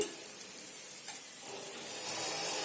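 Breakfast batter roasting on a hot pan, a soft steady sizzle and frying hiss running continuously at moderate level, close by with no talk.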